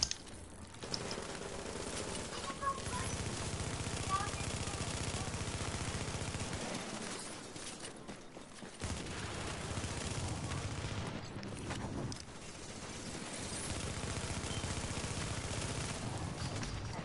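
Sustained video game gunfire in a chaotic firefight, dense bursts and rapid volleys rolling almost continuously with brief lulls, loud and close, with a voice occasionally breaking through.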